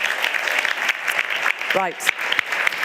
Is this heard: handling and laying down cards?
no